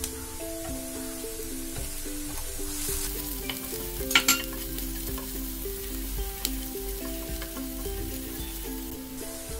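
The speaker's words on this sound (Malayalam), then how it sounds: "ഇനി നമുക്ക് ഇതിനകത്തേക്ക് ഒരു പച്ചമുളക് ചേർത്ത് കൊടുക്കാം." Onion, ginger-garlic paste and green chilli fry in a pan with a steady, close sizzle, broken by stirring scrapes and a few sharper crackles midway.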